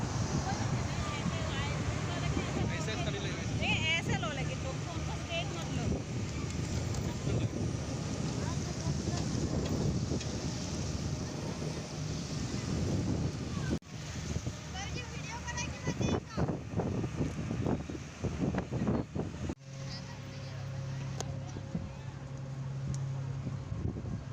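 Wind rushing steadily across a ferry crossing near Kamakhya, loud and continuous with boat and water noise beneath, people talking throughout.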